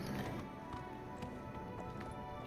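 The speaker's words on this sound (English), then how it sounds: "Oh, and they immediately mount up on their horses." Horse hooves clip-clopping in Oblivion Remastered as mounted riders move near the Imperial City, a steady muffled trotting rhythm at moderate level over game ambience.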